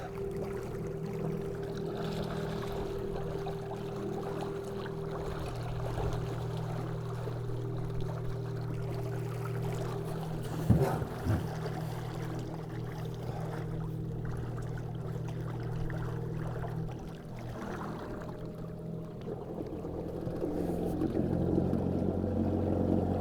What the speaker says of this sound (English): if I put it sideways, the motor sideways, it takes a little time, but it looks like it spins on its own axis